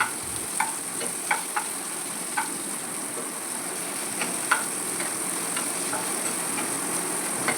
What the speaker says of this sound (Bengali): এবারে হলুদে সম্পূর্ণ বেগুনগুলো এবার ভেজে ভেজে নিচ্ছি